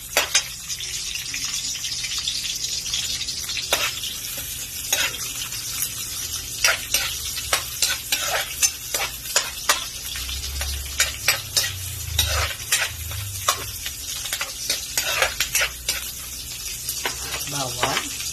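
Chopped onion sautéing in a pan for a Filipino ginisang bok choy dish, a steady close sizzle with frequent sharp scraping and stirring clicks throughout.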